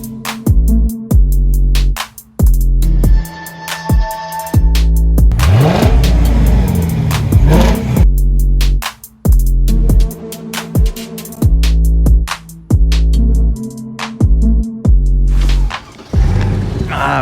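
Mercedes CLK 500 coupe with a naturally aspirated V8 revving hard in repeated sharp blips, deep burbling bursts dropping back to idle between each, then a longer swelling rev midway, loud and close.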